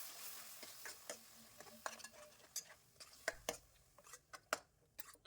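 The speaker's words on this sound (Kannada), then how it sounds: "ಒಗ್ಗರಣೆ ಎಲ್ಲ ಚಟ್ನಿಗೆ ಮಿಕ್ಸ್ ಆಗೋ ರೀತಿ ಕಲಿಸ್ಕೊಳ್ಳೋಣ" A spoon stirs hot tempering into a ground tomato and coriander chutney in a pan, producing irregular soft scrapes and sharp clinks over a faint sizzle, quiet and close, with no speech.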